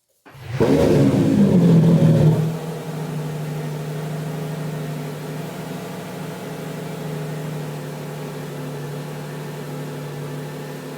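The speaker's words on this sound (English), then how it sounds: "Let me see if I can do a quick startup on this right now." A Lamborghini V12 engine fires up with a loud rising roar for about two seconds, then settles into a steady, even idle hum that continues to the end.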